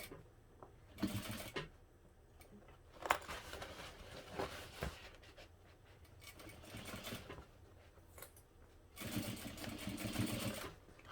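Sewing machine stitching a vinyl bag runs in close, loud bursts of rapid stitching near the start, middle and end, with quieter handling and fabric rustle between runs.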